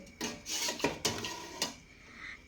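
Lemongrass leaves are dropped into a pot of Isan-style cassia leaf curry, giving a few clattering metallic knocks and rustles against the pot, close and fairly quiet.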